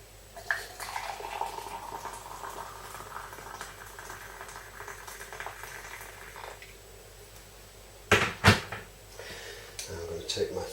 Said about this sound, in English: with boiling water straight from the kettle right up to their maximum lines.